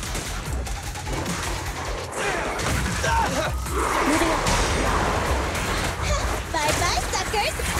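Dense gunfire in the action game Zenless Zone Zero, with rapid shots and crashing impacts layered over music and combat effects under shouted character voice lines.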